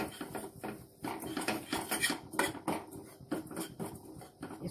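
Roasted buckwheat flour stirred in ghee in a pan, heard as busy, close scraping and clinking of a spoon against metal in quick irregular strokes, with no talking.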